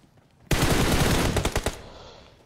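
A burst of rapid automatic gunfire in a video game erupts suddenly, sustained for about a second and ending in several distinct sharp shots, loud and close before a short decaying tail.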